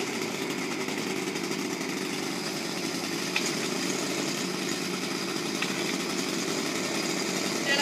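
A Kawasaki TJ35 small two-stroke engine on a landscaping tool with a Mansfield shaft runs steadily after a cold start, a continuous buzzing drone, moderately close and fairly quiet.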